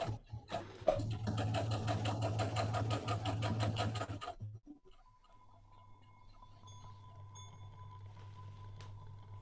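Sewing machine stitches fabric in a fast, even rattle of needle strokes for about four seconds, then stops, leaving a faint motor hum and small handling noises.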